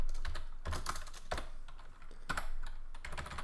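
Computer keyboard typing while code is written: irregular bursts of crisp, close key clicks with short pauses between clusters. No speech.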